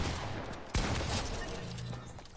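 Uzi gunfire in a video game, a rapid burst with one sharp loud shot standing out, fairly close and carrying on through the short stretch with no talk over it.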